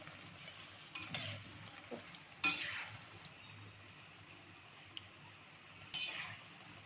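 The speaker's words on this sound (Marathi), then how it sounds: "भजी चांगली फ्राय करून दोन्ही साईडला मी एक दोन तीन मिनटं" Kartoli (spiny gourd) bhaji fritters fry in oil, giving a soft, steady sizzle with a few brief scrapes and clinks of a utensil against the pan.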